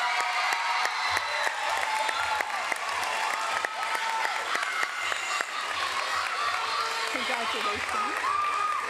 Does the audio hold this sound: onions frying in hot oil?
no